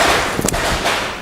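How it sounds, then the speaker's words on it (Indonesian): A single sharp firecracker bang goes off outdoors in a residential neighborhood, a brief loud crack over steady background noise, with a fainter echoing pop shortly after. "itu suara petasan"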